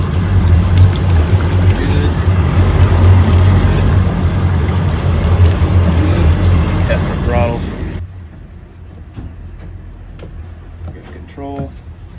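Chris Craft boat engines run at a steady low rumble close by, with water splashing from the discharge, then the noise drops suddenly to a quieter idle hum as a few voices speak faintly.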